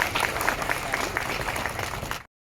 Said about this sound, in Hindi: एक बार जोरदार सर के लिए भी ताली बजा दीजिए।